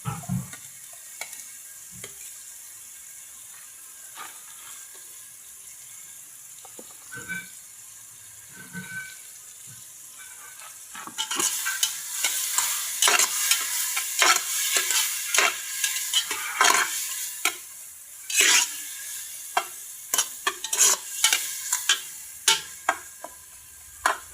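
Onion goes into a pot and sautés for pork sinigang: quiet clinks at first, then a loud sizzle with repeated stirring scrapes and taps, close and uneven.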